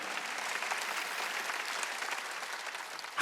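Faint, steady clapping from a church congregation during a Wednesday worship service, an even wash of many hands with no speech over it.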